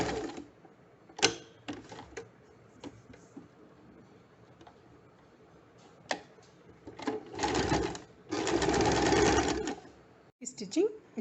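Sewing machine stitching a one-inch section of a kurti side seam pocket, running in short bursts and longer runs of steady whirring between pauses, close and fairly loud, with a voice talking faintly in between.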